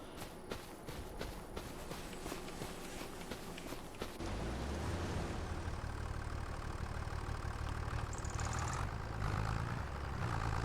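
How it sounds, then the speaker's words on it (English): Tractor engine in Farming Simulator 25 during a logging job, rising from a lighter rumble into a steady, loud low drone after a few seconds, with a higher whine creeping in near the end. "Now we just got to get our tractor with a little winch on it."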